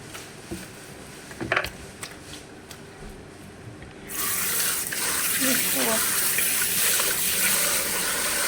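A household tap turned on after a few faint clatters, releasing a steady, fairly loud gush of running water that continues to the end.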